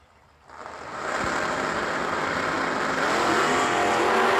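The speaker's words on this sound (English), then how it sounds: "Collins and Robert Ledbetter led in the 69 Firebird. 535 cubic inches of pure Pontiac on board" A 1969 Pontiac Firebird with 535 cubic inches and a Ford Roadster launch at a drag race, engines swelling from quiet into a sustained loud roar that keeps building as the cars accelerate down the strip.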